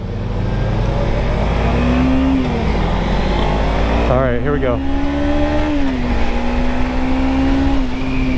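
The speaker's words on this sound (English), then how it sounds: "I'm revving it all the way out and we barely hit 50" A 2023 Suzuki GSX250R motorcycle engine revs hard on a ride, its pitch climbing, dipping and climbing again under steady wind rush; someone speaks briefly near the start.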